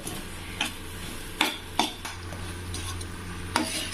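Soya chunks stirred into masala in a pan give a few distinct spoon-on-metal scrapes and clinks over a soft steady sizzle, close and moderately quiet, with no talking.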